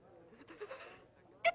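A single short, sharp sneeze bursts out near the end of a quiet film scene from Guys and Dolls, after a stretch of faint, low background sound.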